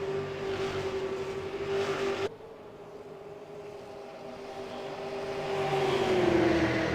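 Race cars roar around the oval at Phoenix International Raceway during a night race, engine drone sweeping past, cutting abruptly, then building again as more cars approach.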